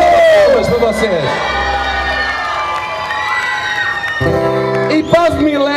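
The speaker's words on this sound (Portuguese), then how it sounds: "palmas para vocês." A large crowd cheers and shouts at a Portuguese religious street festival on a Saturday night in Guimarães; loud, continuous crowd noise full of whoops and raised voices, with tonal sounds running underneath.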